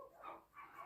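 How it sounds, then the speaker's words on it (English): Dogs bark faintly in the background, a short distant burst of yelps that rises and falls twice in under a second. "excuse the dogs in the background"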